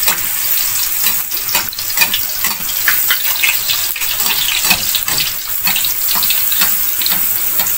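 Puri dropped into hot oil for halwa puri, frying with a loud continuous bubbling sizzle that stays steady throughout.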